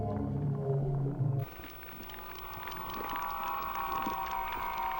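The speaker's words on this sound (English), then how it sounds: "that eerie sound that you're hearing, that's what we recorded earlier, that's his calls, but we're playing them right out into the ocean with a massive speaker" Recorded Basilosaurus calls broadcast into the open ocean through a massive underwater speaker: low tonal moans give way to an eerie, wavering whale-like cry with harmonic whines, loud and continuous over a hissy watery background.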